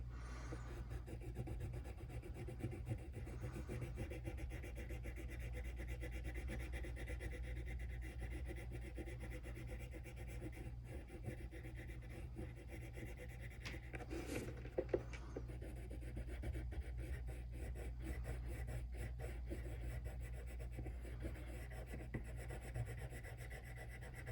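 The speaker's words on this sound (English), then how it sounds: "you want to release some of the pressure on your pencil so that you keep the middle part light" Pencil shading on paper for an op art drawing, a steady soft scratchy rubbing that continues for many seconds, close and faint, with one brief louder scrape partway through.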